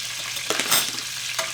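Spatchcock chicken searing in a hot pan gives a steady close sizzle, with a brief scrape of stirring or moving in the middle and no talking.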